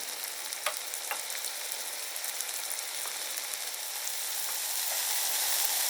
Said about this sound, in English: And then we add the onions. Starting to cook nicely.